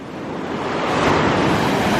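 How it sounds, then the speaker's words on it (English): Ocean surf washing onto Kure Beach on a morning walk, a steady broad roar of breaking waves that swells slightly louder, close and continuous with no talk. "I don't want to get pounded by these waves coming in either"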